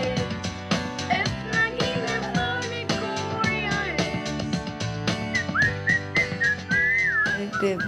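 Melodic whistling over a busy musical backing, the tune rising and sliding in bright high notes across the whole stretch.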